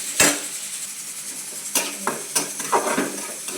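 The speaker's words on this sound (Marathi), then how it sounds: "तेल टाकलं आहे, तर तेलात आपण हा कांदा टाकूया" Chopped onion sizzles in hot oil in a pan for a capsicum dish, with a steady frying hiss broken by several close scraping, clinking stirs of a utensil against the pan.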